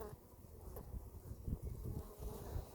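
Honeybees hum in an open hive during an inspection, a soft, steady buzzing drone heard up close, with faint rustling and no talking.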